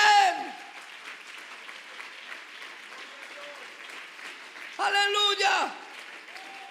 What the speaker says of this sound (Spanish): Dale ese aplauso fuerte al Señor Jesucristo.